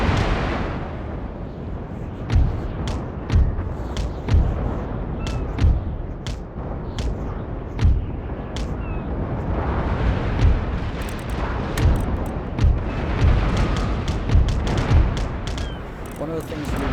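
Ship cannons fire in an Empire Total War naval battle, with repeated booming shots scattered across the clip at irregular intervals over a rumbling battle background, while someone talks throughout.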